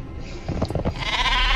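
Sheep in Worms Reloaded letting out a wavering bleat that swells and holds near the end, close and fairly loud over busy game noise.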